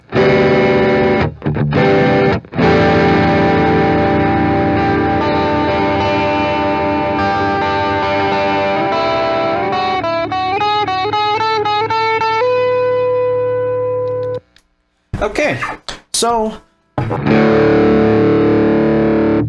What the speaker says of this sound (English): that's a pretty thick distortion that we're getting.